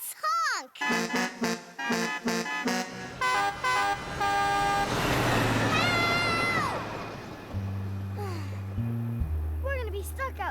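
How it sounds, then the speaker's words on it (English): Cartoon trains from a preschool train show honk their horns in a burst of bright toots amid music and cartoon sound effects, with characters talking around them. "If we hear anyone coming, we'll have to honk our horns loudly."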